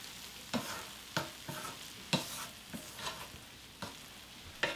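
Dried radish greens (siraegi) stir-fried with onion in a pan, a soft sizzle broken by regular scraping stirs about once or twice a second, close and fairly quiet.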